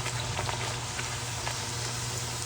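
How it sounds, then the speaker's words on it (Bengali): Bhature, a fried bread, cooking in hot oil: a steady, close bubbling sizzle with dense fine crackles that holds evenly throughout, with no talking. "এখানে আমি ভাটুরেগুলো দিয়ে দেব, দিয়ে ভেজে নেব।"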